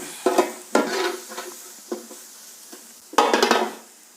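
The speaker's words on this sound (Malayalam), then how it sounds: "മഞ്ഞൾപ്പൊടി ഇട്ടുകൊണ്ട് ചെറുതായിട്ട് മറിക്കണം" Turmeric powder being stirred through food in a pan with a light sizzle underneath; a few distinct scraping stirs scattered through the clip, with a louder flurry of clattering strokes near the end.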